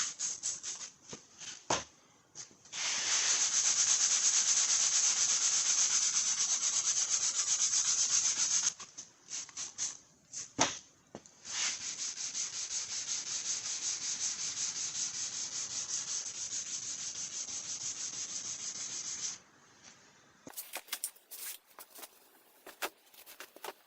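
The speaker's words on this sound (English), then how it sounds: "I don't know if we could wet sand this a little bit." Wet sanding by hand on the hood of a Polaris Ranger XP 900 EPS, long steady rubbing strokes in two extended passes broken by short scuffs and pauses, close and fairly loud.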